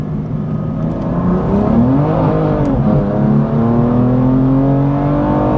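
A tuned BMW M2 Competition on a custom map launches hard in a 0-60 run, its engine revving loud and close, rising through gears with a smooth climbing drone, no voices.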